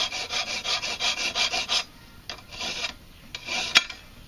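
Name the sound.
cleaning the inside angle of a wooden flute track tool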